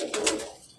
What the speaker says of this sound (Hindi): ये हो गए बटेरी मेन टैडी बनाने वाले कबूतर